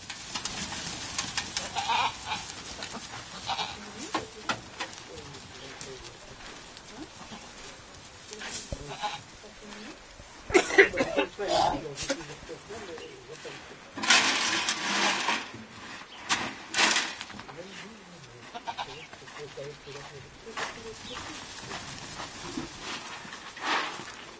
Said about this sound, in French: J'ai 35 têtes, chèvres et moutons confondus.